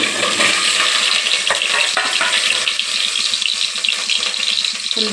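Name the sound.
egg frying in oil in a cooker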